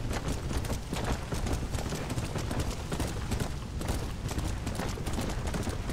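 A horse gallops in Red Dead Redemption: Undead Nightmare, a steady fast clip-clop of hooves that runs loud and continuous throughout.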